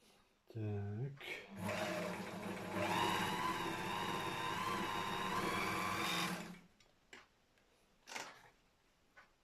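A Gemsy Gem 1 D three-thread overlock serger stitches denim in a fast, steady run of about five seconds, then stops, leaving a few short knocks and handling noises.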